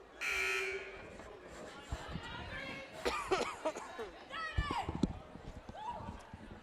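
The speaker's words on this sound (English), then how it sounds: "Buzzer sounds" At a girls high school basketball game in a gym, a loud electronic buzzer blares for about half a second near the start, followed by crowd chatter, sneaker squeaks and an announcer talking.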